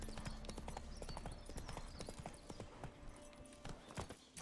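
Horse hooves in The Witcher 3, a quick run of clip-clop steps on hard ground, steady and moderately close, with a faint whinny-like tone and no talk over it.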